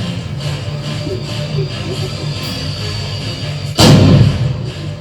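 A single heavy cannon shot booms out near the end, a loud broadband thud rising over a steady rumbling background after several seconds of low din.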